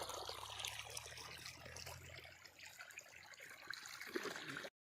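Irrigation water flows steadily across a farm field, a soft, continuous wash and trickle heard faintly and from a distance, with no voices over it.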